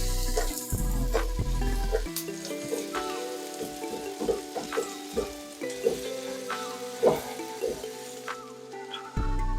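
Shallots sizzle in melted butter in a pan over medium-high heat, a close steady frying crackle with popping spatters, starting with a short clatter as they go in, no voices.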